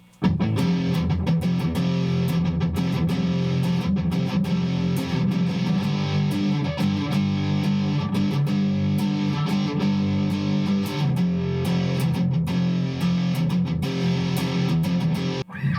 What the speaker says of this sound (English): If we try it with a ultra metal distortion,